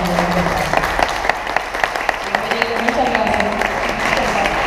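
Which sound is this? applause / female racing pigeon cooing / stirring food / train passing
applause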